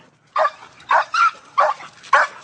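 A frustrated pit bull gives five sharp, close barks spaced in an uneven rhythm, each one short and forceful with brief pauses between.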